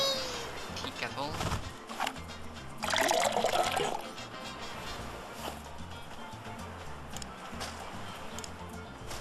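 Running water trickles and splashes in the Sam & Max: Beyond Time and Space video game, with a brief louder gush partway through, fairly quiet overall under a faint musical bed.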